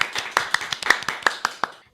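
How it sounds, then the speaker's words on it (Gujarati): Sharp, separate claps ring out at an uneven, fairly quick pace for about two seconds at a college student performance event in Bhuj, then fade out. "તો તાળીઓના ગડગડાટ સાથે"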